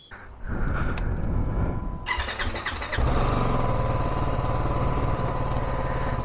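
A motorbike engine starts up, catches and settles into a loud, steady idle, sputtering and then revving a little throughout, before a mountain ride from Shimla to Sangla Valley.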